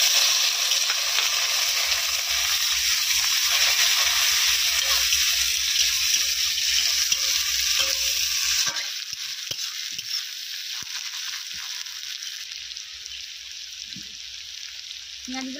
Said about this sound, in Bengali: কড়াই তেল গরম হয়ে গেছে, তেজপাতা, জিরে এবং কাঁচা লঙ্কা ফোড়ন দিয়ে দেওয়া হচ্ছে।